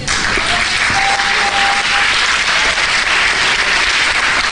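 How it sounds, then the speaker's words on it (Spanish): A church congregation applauds at a Spanish-language sermon, a steady, dense wash of clapping that fills the whole stretch at close range and stays loud and even throughout. "Dele un aplauso al Señor."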